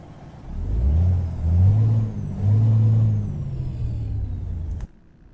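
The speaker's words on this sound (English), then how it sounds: "Detroit Diesel. Start that up." A Detroit Diesel engine in a Kenworth C500 truck in American Truck Simulator starts and settles into a loud, steady low rumble, then cuts off abruptly near the end.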